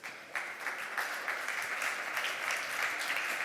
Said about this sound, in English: Warm applause, please.